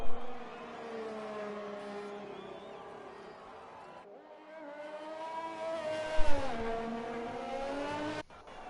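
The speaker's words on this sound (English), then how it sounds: "that was the Ferrari of Liam Rabo pulling to the side to let the Renault pass him" F1 race cars in a racing video game at the Japanese Grand Prix whine as their engines rev and shift, with steady high-pitched tones rising and falling, and an abrupt cut near the end.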